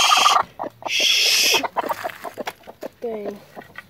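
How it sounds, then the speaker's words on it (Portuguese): Chickens cluck and squawk close by in a farmyard with guinea fowl, loud bursts of squawking followed by scattered short clucks, while a person speaks briefly. "Esses galinhos aqui são valentes."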